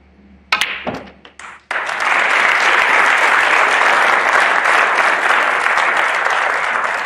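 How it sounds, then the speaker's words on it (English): Snooker audience at the 2021 Champion of Champions bursts into steady, full applause for Mark Selby's century break, preceded by a few sharp clicks and knocks in a quiet arena. "Deserved applause."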